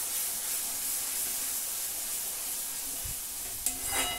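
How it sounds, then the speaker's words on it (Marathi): Dry masala paste for a jackfruit vegetable dish fries in oil with a continuous, close sizzle, then a short burst of scraping and stirring near the end. "अशा पद्धतीने सगळं वाटण वगैरे तेलामध्ये छान होऊ द्यायचं"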